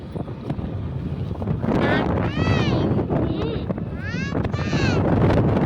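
Wind buffeting the microphone while travelling in hot sun, a continuous rough rush under people talking, with whistling chirps over it.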